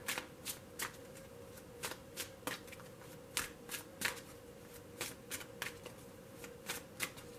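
Tarot cards shuffled by hand, a quick series of crisp riffles and soft slaps in an uneven rhythm, close and fairly quiet against a hushed room.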